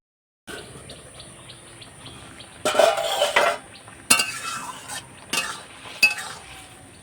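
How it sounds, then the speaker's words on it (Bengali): Metal cookware clanks and clinks close by as a lid is set onto a cooking pot of potatoes and fish, several sharp knocks and rattles over a quiet background. "পাঁচ মিনিটের জন্য একটু ঢাকা দিয়ে দিচ্ছি"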